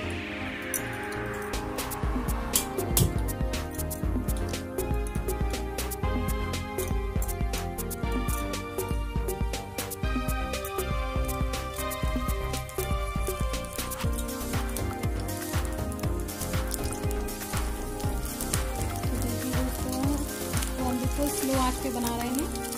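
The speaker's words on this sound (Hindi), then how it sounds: "अब मैं इनको सैलो फ्राई कर लूँगी" Burger patties shallow-fry in refined oil with a dense, close sizzle and crackle that keeps going throughout, with a few spatter pops and no talking.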